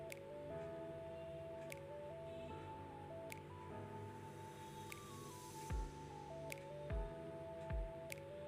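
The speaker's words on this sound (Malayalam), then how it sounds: "എന്നിട്ട് ഇത്രയും കൂടെ നന്നായിട്ടൊന്ന് മിക്സ് ചെയ്തെടുക്കാം സ്പൂൺ കൊണ്ട്." A spoon stirs a thick batter of banana and wheat flour with soft, wet squishing and occasional clicks against the bowl. Steady melodic music plays underneath throughout.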